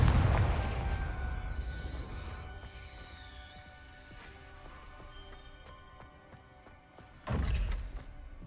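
Confringo explosive spell cast in Hogwarts Legacy, heard as a booming blast at the start that rumbles and fades, then a second loud impact near the end, with no talking.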